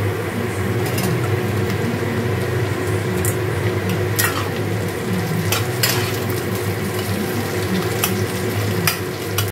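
Chopped onions frying in oil in a pan, a loud constant sizzle with a spatula scraping and stirring now and then and a few sharp clinks against the pan.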